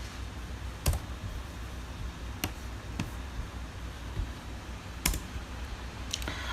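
Sparse, scattered keystrokes on a computer keyboard as data is entered, a few distinct clicks spaced irregularly over quiet room noise.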